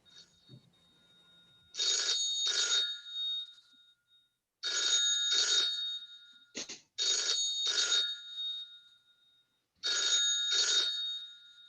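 An office telephone, heard down the line, rings repeatedly in a steady cadence of paired electronic trills with pauses between them, moderately faint and otherwise quiet, no voices.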